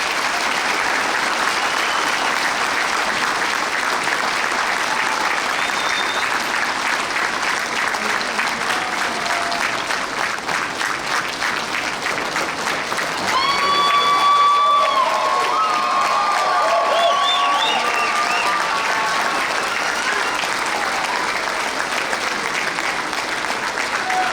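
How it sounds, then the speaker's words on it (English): Sustained applause from a large audience at an Ivy Day awards ceremony, growing slightly louder partway through, with scattered cheers and brief voices mixed in. "join us in another round of applause"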